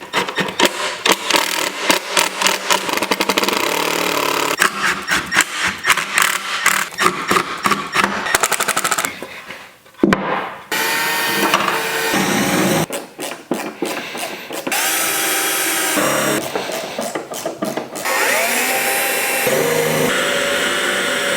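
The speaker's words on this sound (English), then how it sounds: "We'll pre-drill, we'll countersink and see what happens" Repeated bursts of pre-drilling, countersinking and screw driving into wood while building a display case, loud grinding whirs separated by short pauses and clattering handling sounds.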